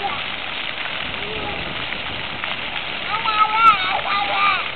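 Water from a public fountain splashes and patters steadily as a child plays in it in 2009, a continuous hiss of falling water with a voice briefly rising over it near the end.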